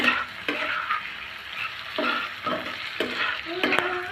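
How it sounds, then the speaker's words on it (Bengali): Pumpkin bhaji with a spoonful of sugar is stirred as it fries in a pan: a soft sizzle runs throughout, broken by repeated rhythmic scraping stirs of the spatula, close and clear. "নেড়ে চেড়ে মিশিয়ে নেব।"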